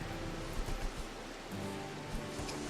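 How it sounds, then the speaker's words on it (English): Steady rain falls across a RimWorld colony map, a soft, even wash of hiss with faint low rumbles, lasting the whole moment with no talk over it. "Look at kind of the rain making everything swooshy."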